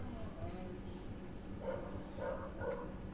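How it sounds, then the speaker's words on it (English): Dogs bark in Persona 4, a few short faint yaps in the distance over a steady low background hum. "Dogs barking."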